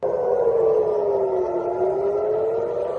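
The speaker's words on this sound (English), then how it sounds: "First visuals from Tel Aviv as sirens blare across." Air-raid sirens wailing across Tel Aviv at dawn during an Iranian missile strike, a steady, loud rising-and-falling drone with a slow pitch dip, continuous for the whole stretch with no voices.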